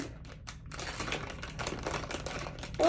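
Paper crinkles and rustles close up while a Dollar Tree toy is unboxed, a busy stream of crackling handling noises ending in a louder burst.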